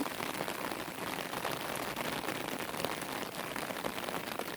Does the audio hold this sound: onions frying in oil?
no